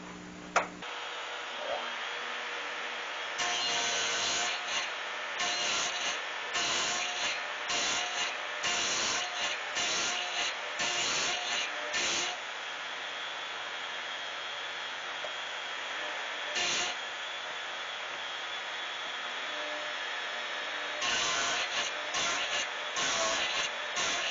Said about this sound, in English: A little bit more chisel work in there.